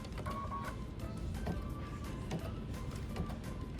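An embroidery machine stitches a satin stitch around the edge of a blue applique flower, making a continuous, even mechanical whir with faint rhythmic tapping, heard at low level and close with no speech.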